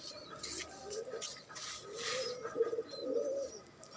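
A pigeon coos softly in low, rolling phrases against a steady background hiss, with faint rustling and other bird sounds mixed in.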